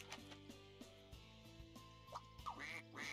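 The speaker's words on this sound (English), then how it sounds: "So we get a wingless duck." A wingless duck in the video game Scribblenauts Unlimited gives a few short quacks near the end, heard over soft, plinking game music at low volume.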